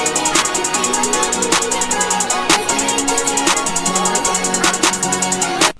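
A looping trap-style beat with a steady, bright hi-hat pattern ticking fast throughout, punctuated by periodic heavier hits and a brief break near the end, loud and continuous with no talking.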